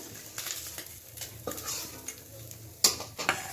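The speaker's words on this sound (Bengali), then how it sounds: "এখন আমাদের মাছটা ভাজা হয়ে গেছে তুলে নেওয়া হচ্ছে" Small fried fish being lifted out of a frying pan, with faint crackling oil under scattered utensil scrapes and a couple of sharp metallic clinks near the end.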